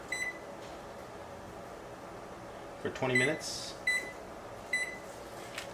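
A sous vide cooker gives three short, clear electronic beeps while its timer is set for chicken cooking in a bag, heard close by over a speaking voice.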